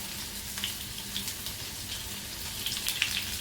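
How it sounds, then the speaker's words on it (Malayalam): Chopped shallots frying in hot oil in a pan after mustard seeds have popped, part of a Kerala horse gram curry: a soft, continuous sizzle with light crackles, fairly quiet and close, no talking. "കടുക് പൊട്ടി കഴിഞ്ഞാൽ അതിലേക്ക് നമ്മൾ ചുവന്നുള്ളി ഇട്ട് കൊടുക്കണം."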